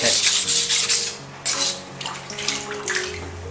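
Rough, gritty scraping of a Japanese chef's knife rubbed back and forth on a wet 600-grit whetstone, close and continuous with a few sharper strokes.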